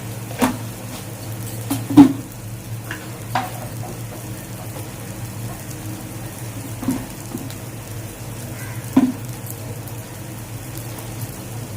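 Spice masala for bata fish curry sizzling gently in a pan, a soft continuous crackle with a low hum underneath and a few scattered clicks and scrapes of stirring.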